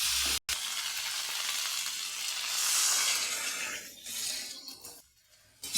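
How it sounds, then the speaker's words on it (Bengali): Water poured into a pan of sizzling fried spices for a Bengali fish curry with beans, potato and eggplant, giving a loud burst of hissing and bubbling that swells, then settles to a quieter simmer. "এখন আমি পরিমাণ মতন জল দিয়ে দেবো"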